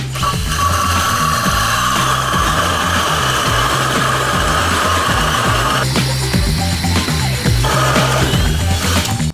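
A Dnipro-M Compact cordless drill boring with a 76 mm hole saw runs loud and close, a sustained motor whine with rhythmic rough chattering of the saw biting the workpiece, shifting in pitch partway through.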